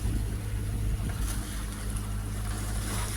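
Steady wash of waves against a sailboat hull while motor sailing in wind, with a continuous low engine drone underneath and a constant hiss of water and air.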